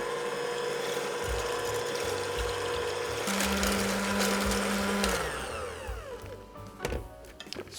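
An electric mixer fitted with a whisk attachment whips cream in a tilted bowl for a no-bake cheesecake, a steady mechanical whir with rattling and ratcheting gear noise that runs continuously, then slows and winds down near the end.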